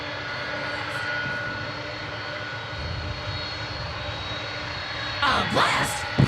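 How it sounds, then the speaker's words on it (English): McDonnell Douglas MD-11 jet engines at DFW Airport at night make a steady, moderately loud droning roar throughout, with brief faint voices and louder rustling near the end. "Oh, we've got double MD action right now because there's a second MD-11."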